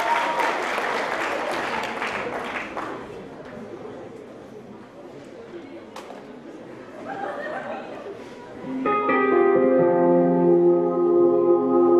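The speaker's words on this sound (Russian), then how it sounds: "Ваши аплодисменты!" Applause from a faculty concert audience greeting a dance ensemble, with chatter and light laughter mixed in, rising and falling before music with sustained tones takes over in the last few seconds.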